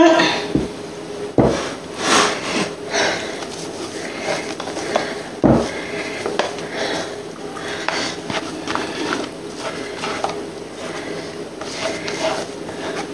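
A spoon gently stirs tiramisu mixture in a bowl, making soft, irregular scraping and rubbing strokes broken by a few sharper clunks against the side.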